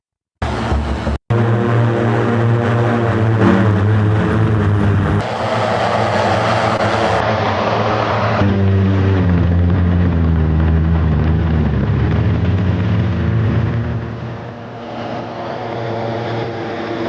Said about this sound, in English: we executed a 4-ship formation flight followed by high-speed pylon race